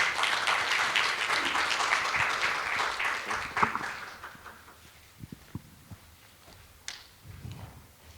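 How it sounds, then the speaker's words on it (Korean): Dense applause from a church congregation welcoming a speaker fills the first four seconds, then fades into a quiet room with a few scattered knocks and shuffles. "우리 박수로 환영했으면 좋겠습니다"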